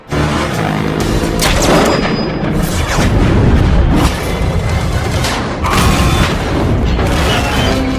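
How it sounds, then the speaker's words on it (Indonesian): Loud, heavy booms and crashing blasts roll through continuously, a sniper rifle shot and explosions in a film action scene, dense and close. "Namun ternyata Cougar sudah bersiap dengan senapan snipernya."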